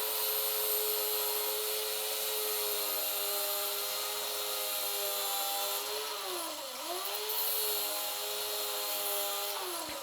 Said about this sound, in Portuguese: vou cortar a minha primeira faceta